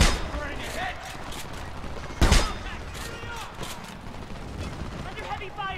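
Gunfire in the Homefront video game, a busy firefight with a sharp close shot standing out among scattered bursts, with voices talking over the fight.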